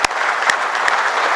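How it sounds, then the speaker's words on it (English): Applause from a conference audience at an inaugural ceremony, a dense steady clatter of many hands, loud and close, continuing without a break. "a big applause for all who are attending the conference"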